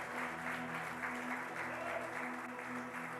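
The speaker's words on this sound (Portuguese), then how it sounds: "A salva de palmas louve ao Senhor Jesus" Church congregation clapping in praise during a Portuguese-language worship service, a soft continuous patter of many hands heard at a distance with a low hum beneath it.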